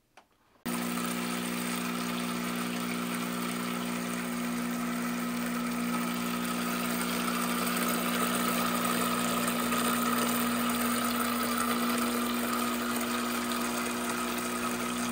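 A De'Longhi Magnifica S coffee machine runs its pump during the descaling rinse, a steady loud buzzing hum with water flow that holds evenly for about fourteen seconds after a sudden start, with no talk.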